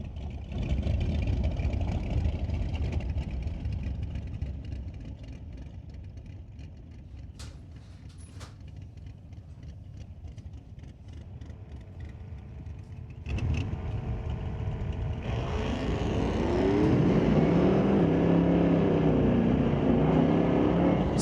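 A 2024 Ford F-150 launches hard off the line at a drag strip, its engine rising into a loud, climbing roar after a stretch of steady idling and rumble, with track noise around it.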